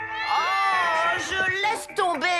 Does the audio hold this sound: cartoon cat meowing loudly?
yes